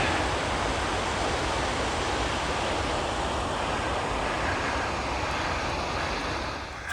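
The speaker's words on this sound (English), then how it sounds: "There's that waterfall I could see from the top yesterday." Winter waterfall on the Overland Track in Tasmania near Cradle Mountain roars as a steady, dense, broadband rush of falling water, loud and unbroken throughout.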